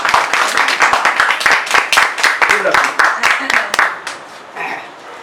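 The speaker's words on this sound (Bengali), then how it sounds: "শুভ্রা কুন্তীর জন্য অ্যাডভান্স একটা হাততালি দিতে হবে।" An audience claps in applause for a recitation: a dense run of hand claps lasts about four seconds, then fades to scattered clapping and murmuring voices.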